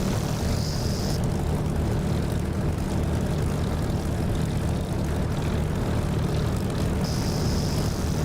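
An aircraft engine drones in the DCS flight simulator video game, a loud, steady propeller roar with a deep rumbling low end that holds constant throughout.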